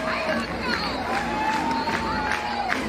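A sold-out crowd at a college softball stadium cheers a home run, a broad sustained roar with whistles and shouts, with a commentator's voice over it.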